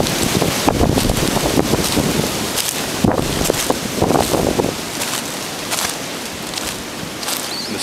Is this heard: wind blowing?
yes